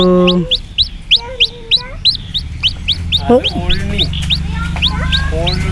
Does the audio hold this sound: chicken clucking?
yes